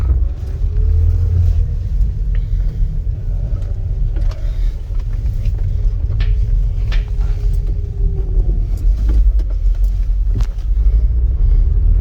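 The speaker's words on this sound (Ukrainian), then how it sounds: "Газу даємо, машина гарно, нормально все їде." A used car pulls away and accelerates on the road during a test drive. A steady, loud engine rumble and road noise run throughout, with no talking.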